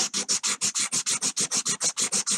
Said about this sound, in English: So all the roughness of it is going to be sanded away.